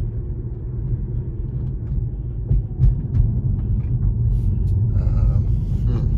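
A Tesla Model 3 Performance rolls along at low speed, heard from inside as a steady low road rumble with light tire noise, a few small bumps and rattles, and some faint rustling near the end.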